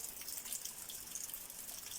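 Water trickles thinly from a household tap during a low water supply, a faint, steady hiss with no voices.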